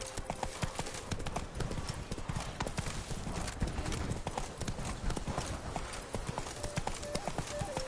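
Hooves of Roach, the horse in the video game The Witcher 3: Blood & Wine, clip-clop in a steady trotting rhythm throughout, loud and close, with a faint snort or whinny among the footfalls.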